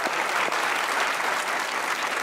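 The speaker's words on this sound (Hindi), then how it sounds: "तालियां बजा लो" An audience applauds during a Pakistani economics talk, dense steady clapping filling the short stretch at a constant level, with no voices over it.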